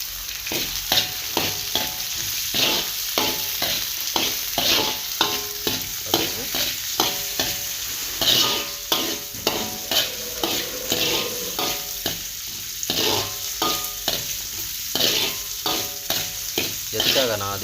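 Carrots and beans sizzle and crackle in a hot pan while a utensil stirs them in quick, repeated scrapes, loud and close throughout.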